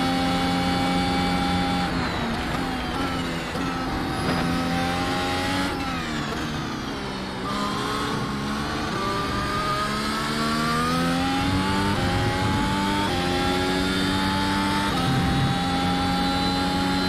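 Mercedes F1 W13 engine in iRacing, a loud continuous high-pitched whine that rises and falls with gear changes and throttle through slow corners, steady and close throughout with no talking.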